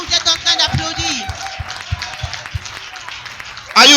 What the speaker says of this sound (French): Look at the way you are clapping hands.